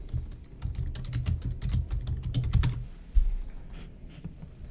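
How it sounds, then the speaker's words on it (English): Keys clatter on a computer keyboard as a search for Lenexa AC repair is typed, a steady run of quick close clicks that stops near the end, with no talk. "So let's just type in Lenexa."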